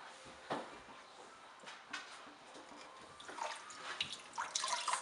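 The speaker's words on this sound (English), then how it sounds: "I'm going to go ahead and dunk it in the hot water." A bar of soap wrapped in a stocking is dunked and rubbed in hot water for felting, giving soft sloshing, wet squelches and small splashes that swell toward the end; no voices.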